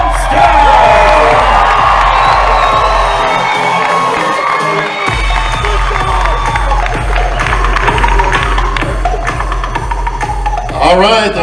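Large crowd cheering, whooping and shouting for bodybuilder Chris Bumstead as he walks onstage at the 2022 Mr. Olympia press conference, a loud sustained roar with a steady low throb of music underneath.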